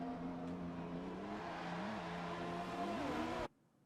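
F1 race cars in the video game F1 2021 scream at high revs, with steady engine whine rising and dipping through gear changes before cutting off abruptly.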